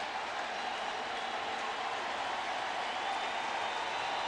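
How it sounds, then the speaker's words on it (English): A baseball stadium crowd roars during a tense bases-loaded moment at a Royals versus Cardinals game, a steady dense wall of distant cheering and applause that swells slightly toward the end. "Crowd comes alive."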